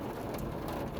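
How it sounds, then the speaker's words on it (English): Heavy rain from a really bad storm drums steadily on a van, heard from inside as a dense, loud, unbroken wash of patter with no voices. "Do YouTubers run for cover during a really bad storm?"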